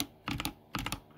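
Two short, quiet bursts of clicks on a computer keyboard come from a GDB debugging session at a desk, each a quick cluster of three or four keystrokes, with no speech.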